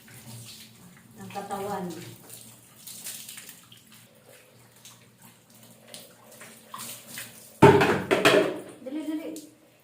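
Water is poured over a pedigree dog during a bath, giving a loud splashing gush near the end, after stretches of talk with quieter handling noises.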